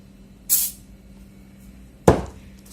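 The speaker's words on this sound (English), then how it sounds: "So this is the WD-40, and I'm going to spray it on that little mist" WD-40 aerosol can releasing two short hissing bursts of light mist, close and loud, separated by a pause of about a second and a half.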